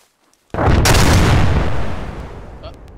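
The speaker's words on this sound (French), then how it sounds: "Ouais, c'est pas moi, c'est une explosion." A loud explosion in the military game Arma 3 bursts in abruptly after near silence, its broad roar sustained and then slowly decaying over several seconds.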